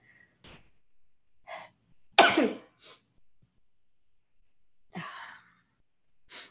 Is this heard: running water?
no